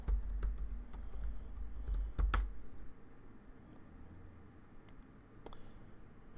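Fingers tap out a password on a computer keyboard at a command-line prompt, a quick run of close, crisp key clicks followed by a few scattered keystrokes after a pause.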